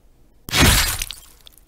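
A sudden sharp crash from a video game Q ability, old version, with a shattering, glassy texture, followed by scattered fading crackles and debris-like ticks, heard alone.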